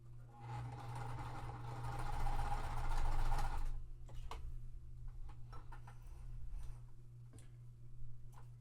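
A sewing machine stitching quilt block seams, a steady fast mechanical ticking over a low motor hum that runs for about four seconds, then slows to scattered clicks and light handling sounds.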